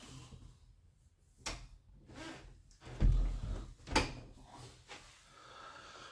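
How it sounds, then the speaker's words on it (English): A door closing in a room where a guitar practice amp is set up, heard as a few soft scuffs followed by a low thump and a sharper knock, quiet and close, with faint shuffling between. "Let me close the door really quick."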